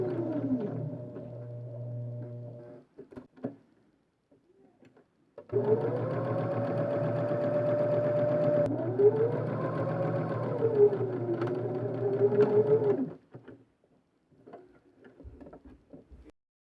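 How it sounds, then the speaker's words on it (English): A sewing machine stitches a fabric bracelet in short bursts, a near, steady mechanical whirr running for a few seconds, pausing, then a longer continuous run before stopping, with faint handling noises between. "I'm going to sew all the way around except for about 1/2 inch from where I started sewing."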